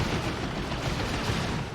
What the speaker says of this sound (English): now the turret shooting back at these stormtroopers